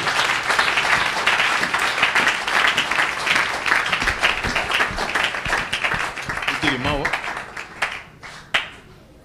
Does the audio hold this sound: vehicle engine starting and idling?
no